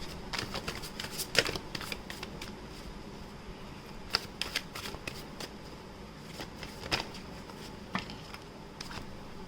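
A tarot deck is shuffled while cards are drawn, giving quiet, irregular riffles and soft clicks of card on card. The sharper snaps come at uneven intervals, nearby and unaccompanied by speech.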